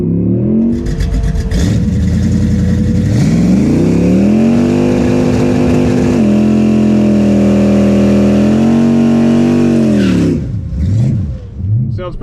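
A Nova SS drag racing at a track at night, engines revving hard and climbing through gears in a loud, sustained roar up close, easing off near the end with a faint voice.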